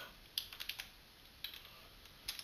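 Computer keyboard typing at a desk: a short burst of quick clicks, a pause, a couple more taps, then another cluster of keystrokes, crisp and fairly close against a quiet background.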